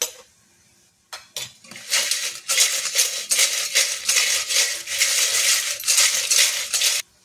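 Crispy homemade banana chips tossed with half a spoon of spice powder in a bowl give off a busy, continuous clinking and rattling that runs for several seconds after a short pause, with no talking.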